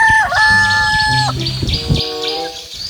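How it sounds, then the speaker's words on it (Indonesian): A rooster crows loudly and close, one drawn-out cock-a-doodle-doo call followed by shorter clucking notes and chirps, with no talk over it. "kita mendapatkan ayam jago"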